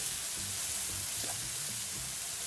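Leeks and Maldive fish powder frying in a pan, a steady soft sizzle with occasional light scraping from stirring, close and quiet with no voices.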